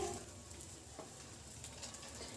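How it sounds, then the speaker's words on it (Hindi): Aloo paratha frying on a hot tawa in a dhaba-style home kitchen, giving a steady, close sizzle with soft crackles throughout and no talking. "पराठे को हमने तवे पे डाल दिया है।"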